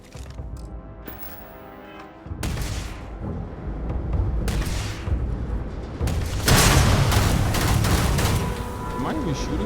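Video game gunfire in a detective shooter, with dense bursts of shots and heavy impacts building to a loud, continuous barrage under game noise and music.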